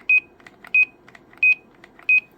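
Four short, bright electronic beeps repeat at even intervals over faint background noise, a crisp radio roger tone at each key release.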